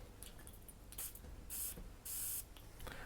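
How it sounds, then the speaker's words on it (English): A pressurized fragrance bottle sprayer fires several sharp, hissing bursts, each about a third to half a second long, close and loud against a quiet room. "Let's see the sprayer in action."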